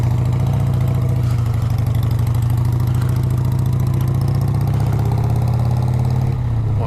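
A motorcycle engine runs close and loud while riding, holding a steady throbbing idle-like drone that dips briefly near the end, with no talking.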